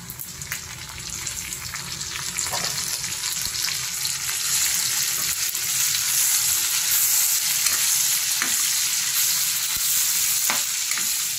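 Chicken or pork liver sizzles loudly in a pan while being cooked for pancit, a continuous crackling hiss with scattered scraping knocks of stirring throughout.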